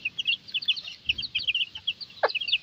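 Native country chicken chicks, a few weeks old and growing, cheep in a steady stream of high, quick peeps close by, with a short louder call near the end.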